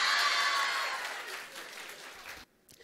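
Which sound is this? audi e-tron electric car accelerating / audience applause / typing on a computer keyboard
audience applause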